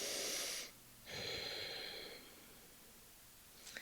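Deep yoga breaths during a flow class: two long, airy exhales about a second apart, the first strong and the second gently fading, followed by quiet and a faint brief sniff at the end.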